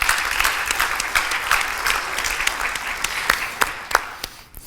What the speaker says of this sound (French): nous accueillons Isabelle Vissuzen, que l'on applaudit bien fort, s'il vous plaît.